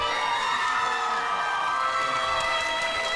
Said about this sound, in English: Can we have a round of applause for Mr.